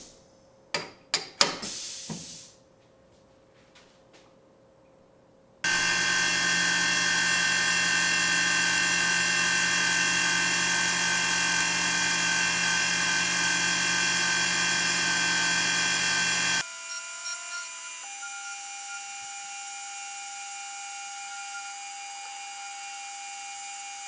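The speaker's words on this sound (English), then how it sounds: "we will begin the process with a 1/2 inch titanium coated carbide end mill." A 1/2 inch titanium coated carbide end mill machining a suspension hook: a few sharp clanks, then a loud, steady whining tonal hum that runs for about eleven seconds before it shifts to a quieter sustained tone.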